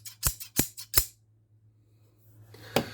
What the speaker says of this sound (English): I mean, for a pair of scissors. Just listen to that.